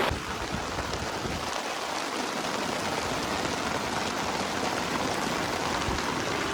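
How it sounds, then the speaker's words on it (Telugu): Heavy rain pours down on a tent at night in a dense, unbroken roar, loud and close, drumming on the thin covering overhead; no voices. "భయంకరమైన వర్షం అయితే కురిసేస్తుంది బయట"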